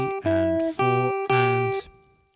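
A short guitar phrase of three quick, ringing chord stabs in rhythm, played alone, with the last one fading away.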